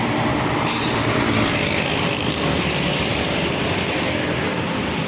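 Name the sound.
truck passing on the road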